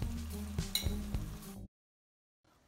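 Bassar spice mix hits a hot pan with a loud, hissing sizzle for about a second and a half, then cuts off abruptly into near silence.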